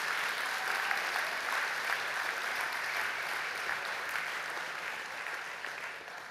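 Dense, steady audience applause fills a charity ball venue for about six seconds, a continuous wash of many hands clapping without pause.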